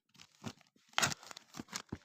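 Plastic packaging crinkles and tears in several short bursts, close and crisp, with brief pauses between pulls.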